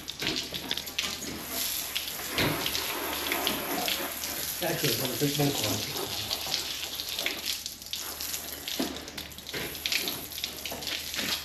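Hot water gushes steadily from a tap on a dairy farm, a close, continuous splashing stream that runs the whole time while a person talks briefly over it.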